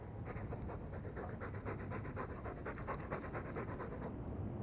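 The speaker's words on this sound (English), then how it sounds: "All that noisy dog breath, day in, day out." A dog panting in the video game Dragon Age 2, a steady, fast, breathy rhythm of quick in-and-out breaths, close and continuous throughout.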